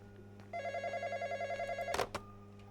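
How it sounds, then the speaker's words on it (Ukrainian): A telephone rings inside a shawarma shop video game, a steady pulsing electronic ring repeating for about a second and a half before a loud burst cuts it off, with a quiet background hum throughout. "Хтось десь дзвонить."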